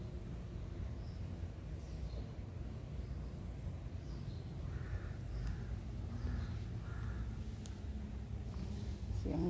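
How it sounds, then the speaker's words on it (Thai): Crows caw faintly in the distance over steady outdoor background noise in a garden of shade plants, with a few scattered calls and no talking. "นกเสียงกาไปด้วยนะคะ"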